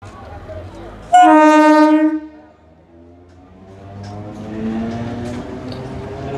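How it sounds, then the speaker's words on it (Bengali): A loud train horn blasts for about a second, then a local train rumbles through a station with a low, building mechanical roar. "ট্রেন আসছে, ট্রেন যাচ্ছে,"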